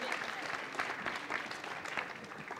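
An audience applauds three finalists at a 2020 young radio talent awards ceremony, a steady wash of clapping lasting the whole moment, fairly close and moderately loud, with no voices over it.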